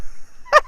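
Heritage breed turkeys call out in a backyard flock, two loud honking gobble-like bursts close by, the second cut off at the end, with a faint steady hum underneath.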